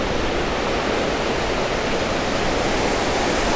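Water roars out of all six open gates at Pinnapuram Dam in Panyam, Nandyal, a loud, dense, unbroken rush with no voices.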